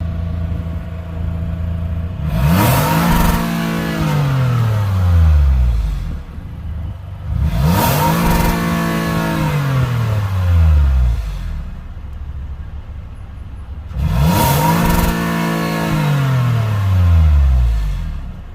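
A 2021 Toyota Highlander Limited's 3.5-liter V6 is revved three times through its exhaust, each loud rising roar falling back to a low idle between bursts, close and clear.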